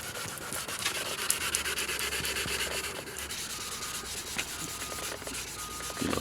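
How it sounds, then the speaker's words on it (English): A sanding block rubbed back and forth over a Toyota Tacoma bumper, a continuous close scratchy rasp with even strokes and no voices. "So when you're sanding, you get good even sand"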